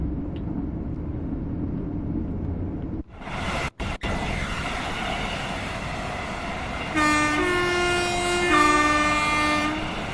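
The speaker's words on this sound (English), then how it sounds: "Let's give a little toot of the horn." Train horn of an electric passenger train in Train Sim World 6, heard from outside on a late-night run to Euston: a steady rail rumble, then a loud sustained two-tone horn blast that shifts pitch partway through before the track noise carries on.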